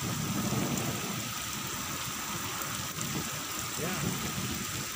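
Dense, steady rain pours down with strong wind, a broad hiss and low gusty rumble, constant and close throughout.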